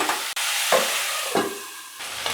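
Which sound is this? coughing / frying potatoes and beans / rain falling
frying potatoes and beans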